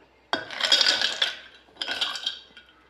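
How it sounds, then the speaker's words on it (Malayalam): Two quick clattering bursts of ice cubes tumbling into a glass of drink, bright clinks and rattles, the second burst shorter and softer. "അടുത്തതായിട്ട് ഐസ് ക്യൂബ് ആഡ് ചെയ്യാം"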